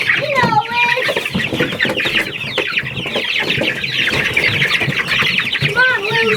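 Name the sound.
rooster and chickens clucking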